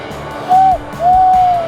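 A person imitates an owl call: two hollow hooting notes, a short one then a longer held one, over a low steady background.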